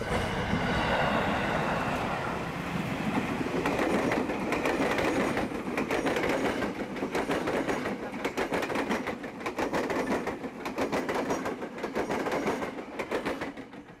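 A KRL commuter train rolls past a railway level crossing, a sustained rumble that turns into a rapid, loud clickety-clack of wheels over rail joints lasting through most of the passage, with no voices heard.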